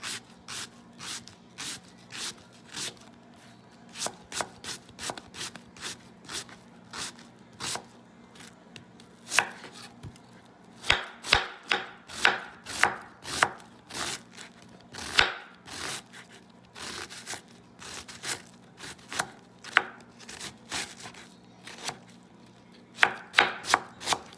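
Knife chopping two medium onions on a cutting board for homemade spaghetti meat sauce: a long run of quick, crisp, close taps, some steady and some in rapid flurries, with brief pauses between bursts and no talking.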